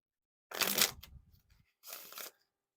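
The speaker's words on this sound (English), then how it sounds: "So you should have no issues riffling them." Theory11 Jimmy Fallon playing cards riffle shuffled nearby in two quick fluttering bursts, the first followed by a soft settling of the deck.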